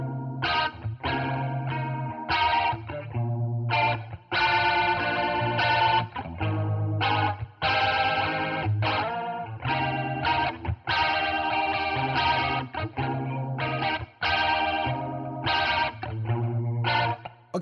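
Electric guitar run through an ab Phaser effect plugin, a sequence of rhythmic strummed chords and short phrases with a sweeping, swirling modulated tone, moderately loud with brief gaps between bursts and no talk.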